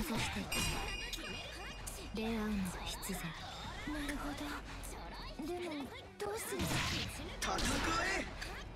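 Loud, sharp game punch impacts crack and clink repeatedly amid whooshes and crashes, with voices talking over the action.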